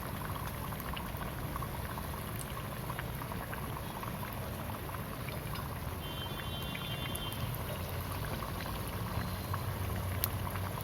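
Rice vadai frying in hot oil fills the scene with a steady, dense, continuous sizzle and bubbling that stays even from start to finish, with no talking.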